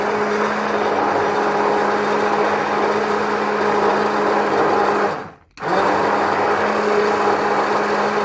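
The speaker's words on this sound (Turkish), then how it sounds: "blenderdan geçirdim" An electric blender whips milk cream and natural cream skimmed from milk for strawberry ice cream, whirring as a steady high drone; it cuts out briefly about two-thirds through, then starts again.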